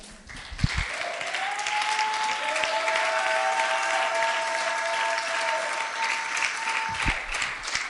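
Church congregation applauding during a Spanish-language service, a loud steady wash of many hands clapping that holds for several seconds, with a few voices and a brief whistle-like tone above it.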